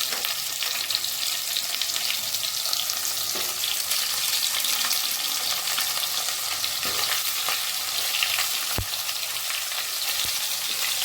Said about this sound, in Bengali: একটু ভেজে নেবো, গ্যাসটা বাড়ানোই আছে।